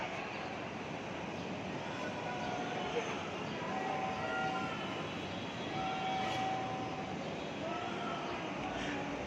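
A steady rumbling roar of a Dhaka metro train in motion heard from inside the carriage, with a faint high whine and occasional rattles.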